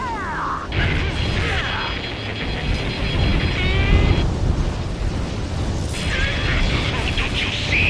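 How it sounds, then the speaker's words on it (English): Explosions from a destroyed rail cannon in Ace Combat 7 rumble heavily under loud, sustained jet and combat noise. Radio chatter runs over the top. "Confirming explosions. The rail cannon's been destroyed."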